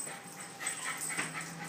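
A beagle mix dog at the vet whimpers and whines softly in short, high-pitched bursts, with faint yips mixed in, close by and steady throughout.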